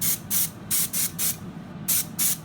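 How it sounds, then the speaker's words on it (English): Spray paint mists onto model kit parts in a series of short, sharp hissing bursts, about seven quick pulses close to the mic with brief pauses between them and no talk. "I give a good distance away when I'm spraying too"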